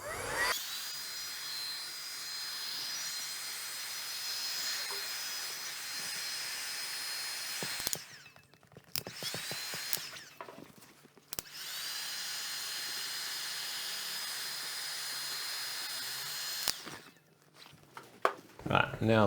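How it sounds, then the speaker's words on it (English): Heat gun warming adhesive on a shoe midsole until tacky, a steady close blowing whir running continuously, briefly cut off twice with handling clicks between, no talk. "Alright, heat gun."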